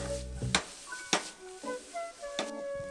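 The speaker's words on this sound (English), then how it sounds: "olive oil going down in the pan. Got our carrots and onions going in, just getting a little translucent, warming up, softening a bit" Carrots and onions soften in olive oil in a pan with a soft, low sizzle, a few sharp utensil clacks and scrapes against the pan, fairly quiet and close.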